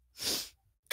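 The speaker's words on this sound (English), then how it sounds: "I sneezed." One breathy sneeze bursts out close by, a short hissing rush of air that then cuts off, followed by a brief quiet.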